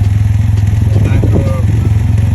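A three-wheel motorcycle, a 2022 Can-Am Ryker 900 Rally Edition, idles with a steady low, pulsing exhaust rumble, close by, with a voice talking briefly over it.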